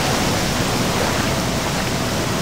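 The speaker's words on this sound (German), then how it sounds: "Kurz mal von dem lauten Wasserfall weg." A loud waterfall in the video game Gothic pours as a dense, steady broadband rush of falling water, close and unbroken, with no voices over it.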